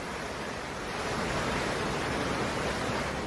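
A mountain river on the Sierra stretch of the Pacific Crest Trail rushes steadily past, a dense, even roar heard up close with no voices over it.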